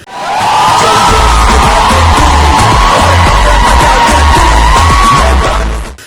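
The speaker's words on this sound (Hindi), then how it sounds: "ये तालिबात को इतना चीख क्यों रही है?" Female students screaming loudly together at a student sports event, a sustained, close, piercing crowd of shrill voices that holds steadily for several seconds before cutting off.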